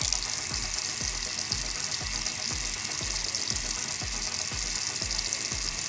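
A bathroom faucet runs at the base of a repaired leaking fixture, giving a constant close hiss with a regular low thumping pulse beneath it, about twice a second.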